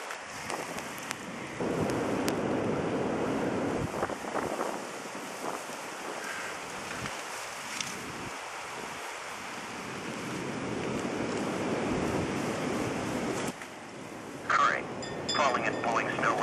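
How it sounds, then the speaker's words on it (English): Strong wind during a blizzard in Glen Ellyn, Illinois, a continuous roaring rush with swelling gusts buffeting the microphone, and someone speaking briefly. "Wow, is the wind howling?"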